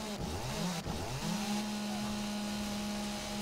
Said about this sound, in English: I'm using a very loud chainsaw